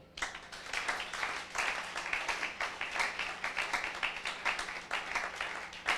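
A church congregation claps in praise of God, steady dense applause running the whole time at close range, swelling and dipping slightly in rhythmic waves.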